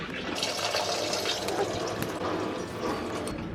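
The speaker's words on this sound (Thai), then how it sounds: "คุกำลังเพิ่มน้ำ" Water poured into a golden apple snail tank, a steady broadband splashing and trickling that runs evenly throughout, fairly close, with no voices over it.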